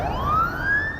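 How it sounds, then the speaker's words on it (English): An ambulance siren on a Moscow street sweeps upward in pitch in a brief, loud, close wail, its tone rising steadily over about a second. "Ambulances are common enough on the streets of Moscow."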